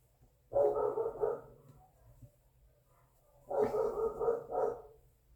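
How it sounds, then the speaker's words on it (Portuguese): A pet dog barks indoors in two separate bursts of several quick barks each, loud and close, with quiet gaps in between. "meu cachorro às vezes late um pouco."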